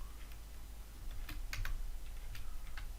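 Someone typing code on a computer keyboard for a C# database application, a loose patter of key clicks at moderate level that gets busier partway through, with no voices.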